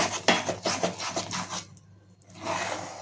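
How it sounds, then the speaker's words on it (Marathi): Gooseberry candy mixture with spices being beaten continuously in a pot, a quick rhythmic rubbing and scraping that stops for a moment, then resumes. "1-2 मिनिटं आपण असंच फेटून घेऊयात।"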